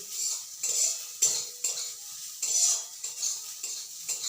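A spatula stirs neem leaves and fried brinjal together in a wok, making rhythmic metallic scrapes and clinks in short repeated strokes over a light sizzle, close and clear with no talking.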